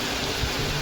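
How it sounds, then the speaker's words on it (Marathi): Steady rain in a Konkan village during a sun shower makes an even, dense hiss for under a second, fairly close and continuous, with no talking. "ऊन पण पडलंय, पाऊस पण पडतोय."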